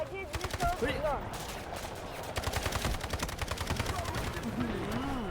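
Delta Force video game gunfire, bursts of rapid automatic shots, sparse at first and then a long dense rattling stretch, with someone talking over the shooting.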